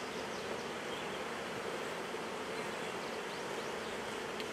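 Honeybees swarm around an open beehive during comb work, a dense, steady buzzing close by that fills the whole stretch without pause, no voices.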